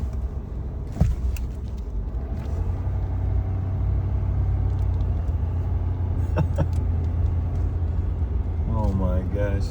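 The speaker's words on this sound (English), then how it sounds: "We're quite literally driving through feet of snow." A Ford F-450 Super Single truck rumbles steadily through deep snow in a blizzard, its low engine drone constant and close inside the cab, with a few clicks and a brief voice near the end.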